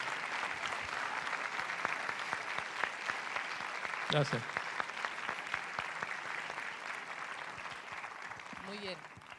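Audience at a science lecture on poetry of the sky claps steadily throughout, a dense sustained applause with a voice briefly speaking near the middle and again at the end.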